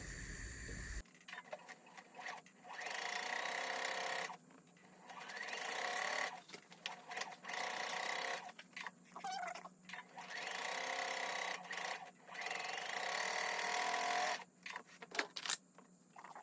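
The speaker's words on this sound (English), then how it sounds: "Now I'm going to put a 1/4 inch seam down each side of that line." A domestic sewing machine runs steady quarter-inch seams on quilted picnic placemat fabric, close and loud in several long bursts separated by short pauses.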